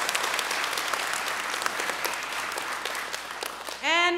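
Audience applause at a school Christmas program for 2nd to 4th graders, a dense even spatter of clapping held for several seconds before a voice starts speaking at the very end.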